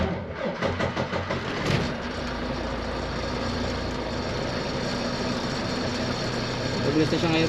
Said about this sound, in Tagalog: Iba yung tunog ng starter niya ngayon.